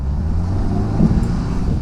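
A 2007 Honda S2000 on Michelin PS4 tyres lapping the Bedford Autodrome circuit, heard as a loud low engine drone with wind rumble from inside the moving car.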